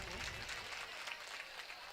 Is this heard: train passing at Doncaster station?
no